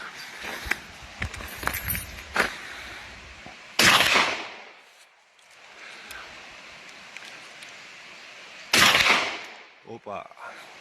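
Two loud, sharp blasts from a Huglu 12 gauge shotgun ring out several seconds apart, each with a short echoing tail, amid quieter outdoor handling noises and faint movement.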